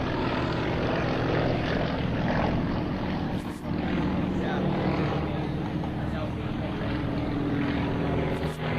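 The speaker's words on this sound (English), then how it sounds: "Here's on the front again, from the right to the Yak 55." A Yak 55 aerobatic propeller plane performs at an airshow, its engine droning loudly and continuously with a rough buzzing tone that swells and dips slightly as it maneuvers.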